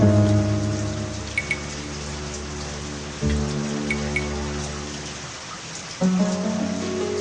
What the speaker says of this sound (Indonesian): Niscaya Nuh bersama pengikutnya akan tenggelam oleh air hujan.